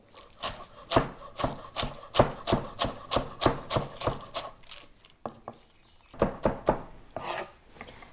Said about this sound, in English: I'm just gonna tap them with my knife so they're all level. And I'm just gonna give them a slice as thin as possible.